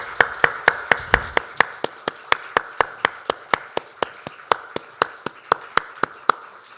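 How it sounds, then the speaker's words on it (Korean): Steady, evenly spaced hand claps at a church worship service ring out one after another, about three per second, crisp and close with no voices. "하나님께 영광의 박수를 올려드리겠습니다"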